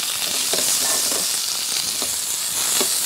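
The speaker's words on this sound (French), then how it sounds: "un filet d'huile d'olive. On va verser les gnocchis dedans." Gnocchi pan-frying in olive oil, a loud, dense, continuous sizzle with faint intermittent stirring taps.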